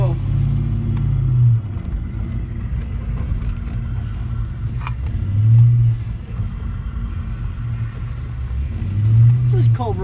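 An AC Cobra with a new fuel pump rumbles along on a cold, snowy road, its engine droning loud and close and swelling in a few revving surges, with someone talking over it.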